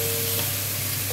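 Garlic and meat sizzle steadily in a hot pan while being stirred for lomi, a close, continuous frying hiss with no talk over it.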